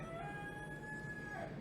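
A rooster crows in a Ghanaian village, one long, faint, drawn-out call that falls away at the end, heard from a distance over steady outdoor ambience.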